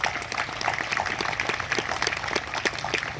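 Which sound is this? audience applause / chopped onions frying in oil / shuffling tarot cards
audience applause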